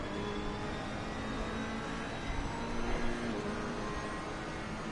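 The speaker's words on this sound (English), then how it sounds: "As long as the car can still be heard so you can still get an idea what the cars are doing" A racing video game car engine hums and revs steadily with a whirring mechanical tone, swelling slightly midway, with no voices.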